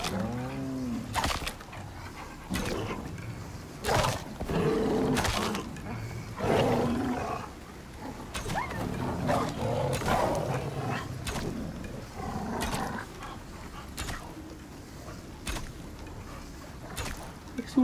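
A bear in the video game Icarus lets out repeated growling roars in bursts, mixed with sharp impact sounds, while a person talks over it.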